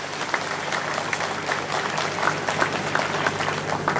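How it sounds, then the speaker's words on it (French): Audience clapping in a hall during an evening celebration, a steady moderate patter of applause lasting throughout with faint background murmur and no speech. "Je crois qu'on peut l'applaudir."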